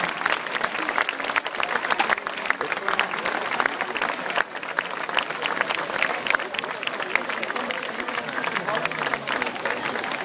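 A crowd applauds the Olympic flame's arrival in Xanthi with sustained, dense, steady clapping that goes on for several seconds, with voices mixed into the ovation.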